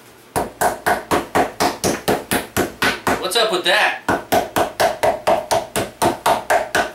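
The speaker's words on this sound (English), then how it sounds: "the more you bang on this, the more tender it will be" Rapid, regular thuds of a mallet pounding fajita meat to tenderize it, close and loud, with a short pause where someone speaks before the pounding resumes.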